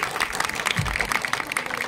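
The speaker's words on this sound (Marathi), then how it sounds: "टाळ्या थोड्या होऊ दे का." An indoor audience at a hospital's International Nurses Day prize announcement claps briefly, a short burst of applause close by.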